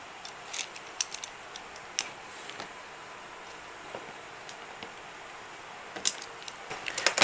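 Scissors cut through an extension wire at a worktable, with sparse sharp snips and clicks spread across a quiet background that cluster into a quicker run near the end.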